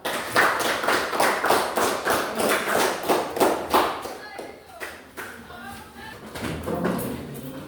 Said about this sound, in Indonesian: Mari kita memberikan aplaus kepada kelompok 3